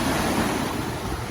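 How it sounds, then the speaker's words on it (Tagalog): Strong waves at Manila Bay's Dolomite Beach make a steady, loud wash of surf with wind buffeting the microphone, no voices over it. "Nananahimik bigla ako kasi yung alon ang lakas."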